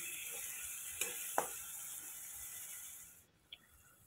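Chopped tomatoes sauté in a pan for a palak matar sabzi, with a soft hiss and a few sharp spatula scrapes and clicks against the pan. The sizzle fades near the end.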